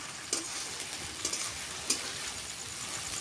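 Onions frying in a pan as a ground dried red chili and cumin paste goes in for a papaya-tenderised chicken curry: a soft steady sizzle with a few sharp stirring clinks and scrapes, fairly quiet and close.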